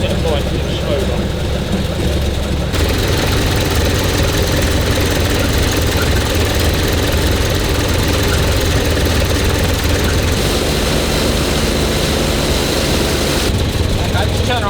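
An engine idles steadily nearby, a loud continuous low rumble with an even drone that runs the whole time, while people talk over it.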